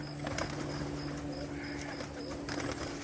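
Pigeons cool off in a water bath during extreme summer heat, soft cooing and occasional wing flutters rising over a steady low background hum, fairly quiet and with no talking.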